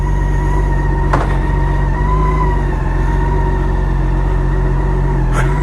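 BMW K1600B Grand America motorcycle running at a standstill, its steady engine drone and low rumble continuous and loud with a couple of brief sharp clicks, no talking.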